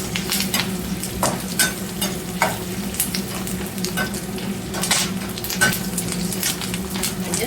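Curry leaves and chana dal crackle in hot oil for a cornflakes mixture, a steady close sizzle broken by sharp pops and the scrape of a spoon stirring the pan.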